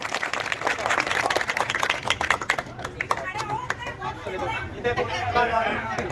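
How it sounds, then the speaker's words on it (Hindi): A village crowd at a Holi celebration claps for a singer, with scattered, uneven applause running throughout. Lively chatter and voices in the crowd blend in under and over the clapping. "जोरदार तालियां।"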